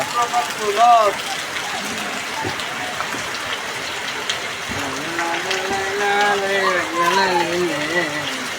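Heavy monsoon rain falls over a village in Bangladesh, a steady wash of hiss running throughout while voices talk over it up close.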